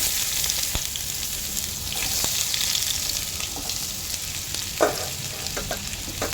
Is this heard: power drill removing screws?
no